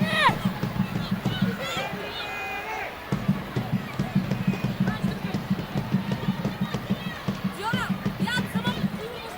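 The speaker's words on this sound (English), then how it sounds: "Crowd still making noise." Stadium crowd noise at a USA v Uzbekistan women's international football friendly, a steady roar with rhythmic pulsing swells, heard under a commentator's talk.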